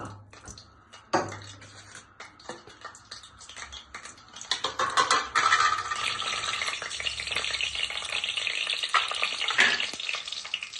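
Cloves and whole garam masala spices crackle in hot oil, with sharp scattered pops and utensil clicks at first, then a fuller, steady sizzle that builds and holds close.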